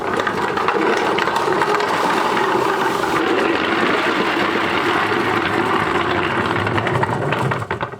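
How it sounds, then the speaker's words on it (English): A laminated plywood shop stool rolling on four transfer bearings makes a loud, continuous grinding rumble across the floor, close and unbroken for several seconds, easing off only at the very end. "I decided to go with 4 transfer bearings, and so far this thing's turning out good, but as you can tell, it's super noisy"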